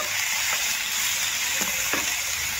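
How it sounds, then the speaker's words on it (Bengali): Fried potatoes tossed with jackfruit and spices in a pan for a vegetarian Bengali jackfruit kalia, giving a steady broad sizzle throughout with a few faint scraping stirs, close and alone. "আলুগুলো দিয়ে আবার ভালো করে কষিয়ে নেব"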